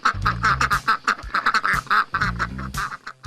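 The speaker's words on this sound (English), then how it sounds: "Even their ducks bid us goodbye." Ducks on a farm in Kangaroo Valley quack repeatedly in a loud, close, overlapping chorus of rapid, raspy calls with no talking.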